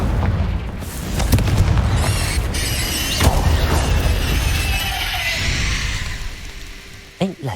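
Explosive Confringo spell blasts in Hogwarts Legacy, several heavy booms and crashing impacts with crackling debris over a rumbling low bed, a voice speaking over parts of it, ending with sharp short bursts.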